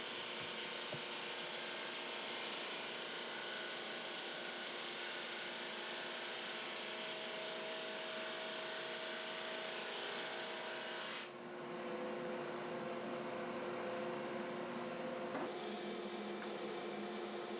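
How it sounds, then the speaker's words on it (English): Wood runs through a drum sander, giving a loud, continuous abrasive rushing hiss with a shifting tone partway through as the board passes, no voices. "So in this case, I am running it through the drum sander."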